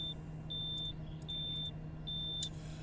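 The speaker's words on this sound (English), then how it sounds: "I'll turn that back on, so I do apologise for the beeping" A Discus 2C glider cockpit in a flight simulator game gives out a series of high, thin electronic beeps in regular bursts with brief gaps, over a low constant hum and a few faint clicks, with no talking.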